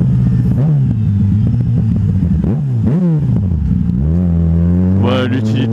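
A motorcycle rides through congested traffic with a loud, close engine drone that rises and falls as it revs and shifts, while a rider talks over it.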